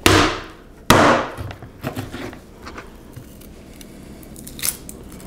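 Raw raccoon legs, shoulders and loins being cut into chunks, with two loud sharp chopping impacts near the start followed by quieter cutting and handling sounds, close up and without talk.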